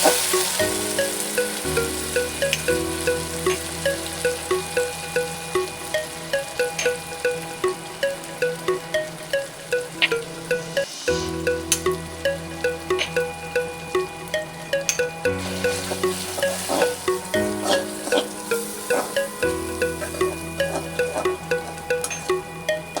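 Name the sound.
spices frying in pan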